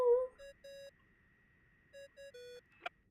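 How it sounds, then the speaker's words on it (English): A ringing tone from the Genshin Impact video game plays as a repeated pattern of electronic beeps: two short tones, a gap, then two more tones and a longer one, clear and fairly loud over quiet background. "I really hate that ringing tone"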